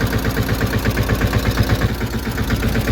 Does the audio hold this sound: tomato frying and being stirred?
no